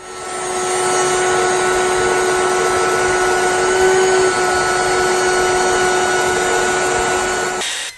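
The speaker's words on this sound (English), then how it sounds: "I adjusted the groove bit so I could cut a rabbet on all 4 sides of the panels." A router with a groove bit cuts a rabbet along wood panels at a router table, a loud, steady high whine that holds evenly for several seconds and then cuts off sharply.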